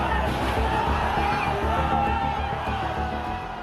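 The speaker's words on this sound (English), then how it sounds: "And the crowd surges towards Parliament" A protest crowd surges toward Parliament, a dense roar of many voices with shouts and whoops rising steadily, near and loud throughout.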